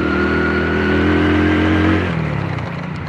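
Honda Win motorcycle engine revving loudly and steadily up close, a strong held rev that drops and settles toward idle near the end, with no talk.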